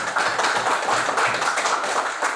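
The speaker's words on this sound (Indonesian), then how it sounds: "Tepuk tangan" Students in a classroom lesson clap their hands together, a dense, lively patter of many small claps close by, steady and continuous for a couple of seconds.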